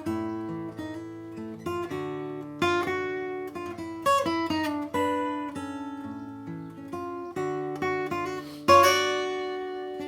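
Electric guitar plays the melody of a jazz tune, a sequence of clear plucked notes and chords with an even, unhurried phrasing, heard close and alone with no talking.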